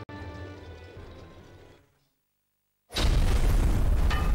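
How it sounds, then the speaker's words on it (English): Video game explosions from Jak 3: a rumbling blast fades into a second of silence, then a loud, dense, sustained boom takes over, with no talk. "Explosions."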